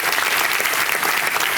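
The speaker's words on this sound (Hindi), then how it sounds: "तालियों के साथ इनका स्वागत करते हैं।" A studio audience on the KBC game show applauds, a dense, steady burst of clapping from many hands filling the room for a brief moment.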